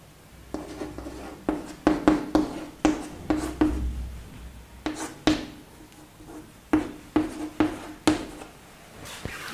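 Chalk or marker strokes on a board in a chemistry class, a steady run of short scratching taps in quick clusters with brief pauses, close and fairly loud, without any talking.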